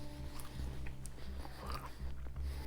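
Someone bites into over-buttered bread spread with Marmite and chews it close to the microphone, giving soft, faint, repeated mouth and crunch sounds with no talking.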